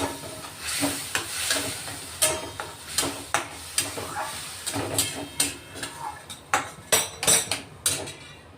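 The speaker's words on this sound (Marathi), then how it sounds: "हा मसाला आपण चांगला शिजवून घेणार आहे" Peanut curry masala cooking in an iron kadhai with a splash of water, a spoon scraping and clanking against the pan in irregular knocks over a low sizzle, growing more rapid toward the end.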